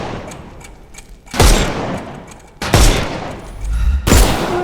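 Gunfire in the Sherlock Holmes Chapter One video game: three loud, sharp bursts of shots with booming tails, spaced about a second apart over a low background.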